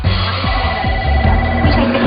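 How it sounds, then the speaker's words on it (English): An office telephone line rings, a repeated electronic trill in short regular bursts, loud and close over a steady hum. "You didn't even put down the phone before the line rang again"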